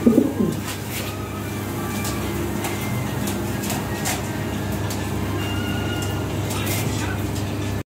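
Blue bar Lahori pigeons coo softly among a loft of birds, with a steady hum of nearby traffic or machinery underneath.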